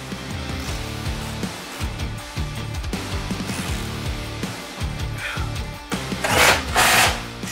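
A power tool rattles and whirs in a steady, pulsing run while tightening skid plate bolts on a Jeep Wrangler Rubicon. It ends in a louder hissing burst near the close.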